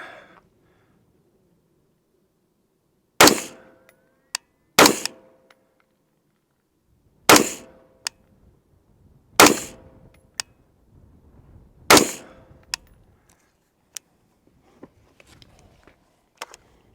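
Shots from an S&W FPC carbine or AR pistol during an accuracy check at a range, five sharp, loud reports spaced a couple of seconds apart, each followed by a short ringing tail and faint metallic ticks.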